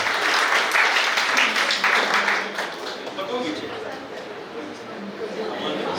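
Audience clapping for a singer at a stage music show, a loud burst of applause that eases into scattered clapping under an announcer's voice.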